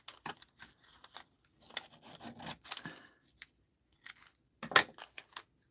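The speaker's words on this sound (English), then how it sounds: "I'm going to cut out the word features here" Scissors snip through a magazine page to cut out a single word, quiet close crunchy snips and paper rustles in short irregular bursts with pauses between.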